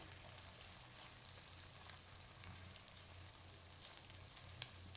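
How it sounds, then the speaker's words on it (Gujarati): Spring onion, garlic and onion fry in a pan with a steady, soft sizzle and faint crackle throughout, fairly quiet and with no talking. "ડુંગળીને લસણ ને બધું એકાદી મિનિટ માટે આને આમાં પકાવી લેવું."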